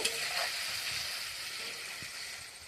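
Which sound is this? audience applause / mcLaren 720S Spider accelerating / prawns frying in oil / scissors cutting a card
prawns frying in oil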